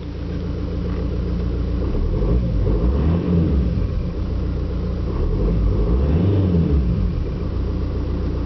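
A 2008 Audi A4's engine, heard close and steady, rumbles at idle and climbs in repeated revs toward a low limiter, rising and falling in smooth swells.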